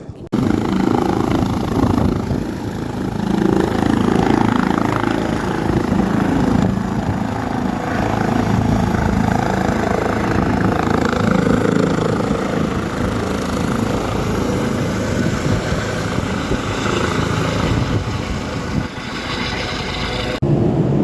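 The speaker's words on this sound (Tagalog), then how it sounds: "Dala-dala ng helicopter yung pilot" Continuous thumping drone of a helicopter flying nearby at night over Gladstone port, Australia, loud and steady throughout with a low rumble beneath.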